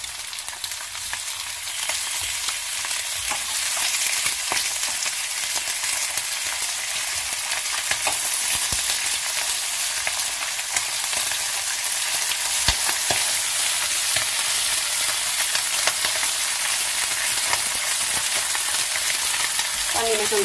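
Kukurec (lamb offal roll) sizzling steadily while frying in a pan, with soft scrapes and clinks of stirring scattered through the constant bubbling hiss, close and continuous without talk.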